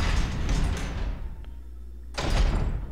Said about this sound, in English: Right, through the spooky door.